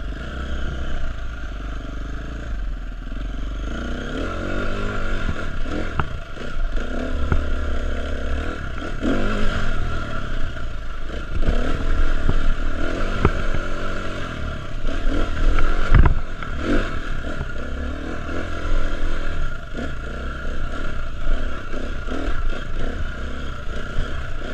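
A motorcycle out on a ride makes a steady engine drone mixed with rushing wind roar. The sound is loud and continuous, with occasional rises in revs and no talking.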